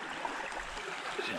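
Fast, ice-cold stream water runs steadily past, made murky by heavy rain, as a continuous broadband rush with no voices over it.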